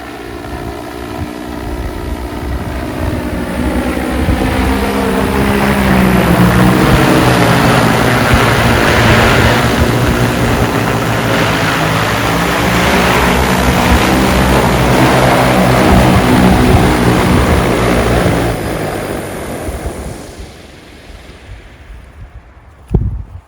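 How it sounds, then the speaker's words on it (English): A large agricultural seeding quadcopter flies overhead with a loud, sustained whirring propeller roar that swells as it passes close, then fades away over about twenty seconds. "It's actually more of a quadcopter than a drone"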